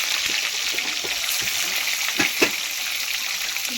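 Eggs frying in hot oil for egg curry, a dense continuous sizzle with light crackling and a couple of brief stirring scrapes, close up and no talking.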